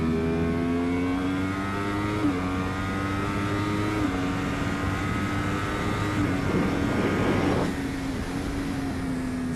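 Racing motorcycle howling at full throttle around Thunderhill track, loud and close, engine pitch climbing in steady steps through upshifts before easing off near the end.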